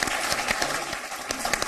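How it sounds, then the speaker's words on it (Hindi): An audience gives sustained applause to welcome a poet at a poetry stage event, with dense, steady clapping throughout. "एक बार तालियों से स्वागत करें"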